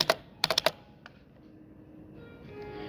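Someone types on a computer keyboard while registering a walk-in hotel guest, with a quick burst of four or five close keystrokes and a couple of isolated taps, followed by quiet room tone.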